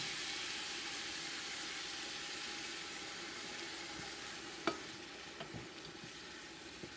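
Tomatoes and sausage sizzle steadily in a jambalaya pot, a dense, even frying hiss throughout with a few small clinks and pops from stirring near the end.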